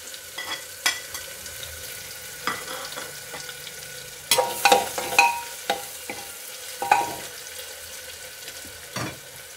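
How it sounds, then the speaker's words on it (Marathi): Onion frying with cinnamon in a home kitchen pan for dal tadka and jeera rice, a steady soft sizzle broken by scattered clicks and scrapes of stirring, with a louder busy stretch of utensil knocks midway. "आता मी कांदा पण घालते यात, बाहेरसारखी टेस्ट यायला."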